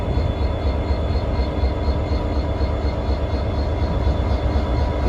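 Former Baltimore and Ohio 4123, a 1979 diesel locomotive, idles while stopped at a red signal, giving a steady low rumble with constant engine throb, close and continuous throughout.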